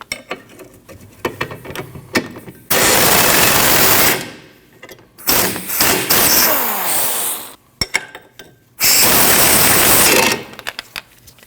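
A power tool whirs loudly in three sustained bursts while removing a 17mm lower control arm bolt at the rear knuckle of a 2003-2008 Subaru Forester. Quieter clicks and metallic handling noises fill the gaps between bursts.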